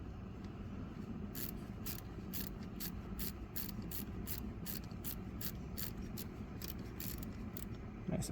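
A cobalt ratchet wrench clicks in a quick, even series of about a dozen sharp ticks while a catch can is installed on a 2015-or-later Ford Taurus.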